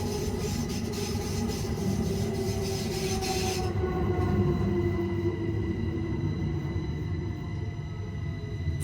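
NStCM narrow-gauge train running down into the new underground station at Nyon, with steady rumbling wheels and a sustained squeal; a bright hiss drops away partway through as the train enters the tunnel.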